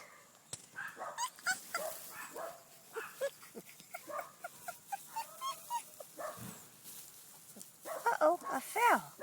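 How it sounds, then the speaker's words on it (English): Wolf hybrid puppies yip, whimper and squeal in short, busy bursts close to the microphone while a person talks over them. A higher whining cry rises near the end. "My little wolf hybrid puppies."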